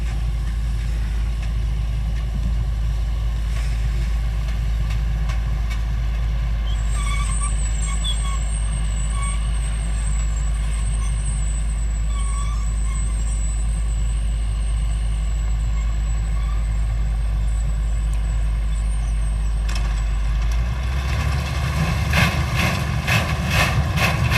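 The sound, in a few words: sugarcane harvester running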